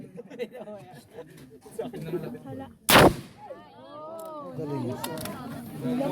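At an army unit's firing range, one loud, sharp gunshot cracks out between people talking nearby.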